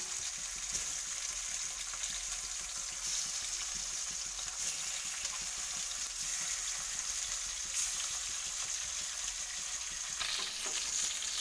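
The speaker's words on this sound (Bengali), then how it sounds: "একবারই মাছগুলো সব ভেজে নেবো আমি" Pieces of rohu fish fry in hot oil in a pan, giving a loud, steady sizzle that crackles continuously throughout with no voices.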